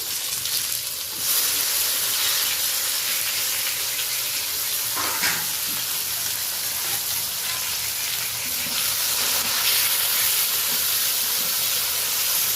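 Whole garam masala, dried red chillies and two or three bay leaves sizzle steadily in hot oil, a constant close frying hiss with faint stirring clinks.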